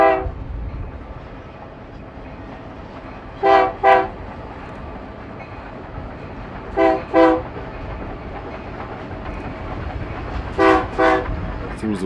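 Union Pacific Big Boy 4014 steam locomotive rumbles steadily past with a special train while its whistle sounds in short paired blasts, three times, loud and fairly close.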